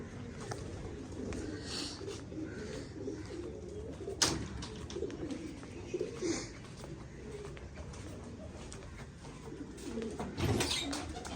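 Pigeons coo softly and repeatedly against a steady background murmur, with occasional brief rustles.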